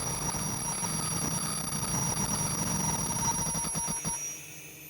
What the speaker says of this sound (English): And the low air alarm is working as expected.